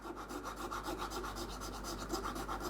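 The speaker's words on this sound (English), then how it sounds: "And got my trusty file. And all I'm going to do is just go over the top" A hand file rasping across the top layer of a spray-painted engraved part, quick rhythmic back-and-forth strokes, close and steady, with no voices.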